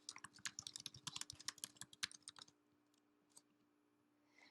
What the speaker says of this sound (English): Type your classroom name.